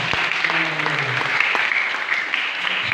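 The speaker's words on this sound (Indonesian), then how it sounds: "Haleluya, beri tepuk tangan buat Tuhan." Church congregation applauding during a praise moment in an Indonesian service, dense clapping mixed with cheering voices and a few sustained vocal tones, loud and continuous.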